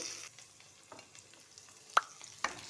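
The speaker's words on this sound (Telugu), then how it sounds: "మనం ఇందాక నూరుకున్నటువంటి గోంగూర పచ్చడిని ఈ ఆయిల్లోనికి వేసేసేయాలి" Ground gongura chutney goes into hot oil in a pan and is stirred, giving a quiet, brief sizzle with a couple of sharp spoon clicks against the pan.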